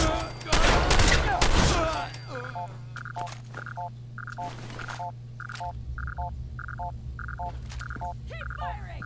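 Gunfire in the post-apocalyptic game Fallout 4: a dense burst of loud shots at the start, then sparse quieter pops under a steady hum and repeating electronic beeps.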